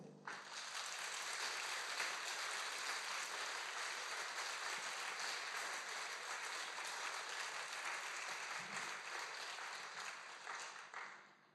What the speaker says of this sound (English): give yourselves and our friends and supporters a huge round of applause